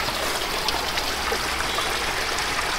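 Water flows at a blue lagoon river near Kaybiang Tunnel in Ternate, Cavite, as a steady hissing, trickling wash with faint splashy flecks, continuous and fairly close, with no voices.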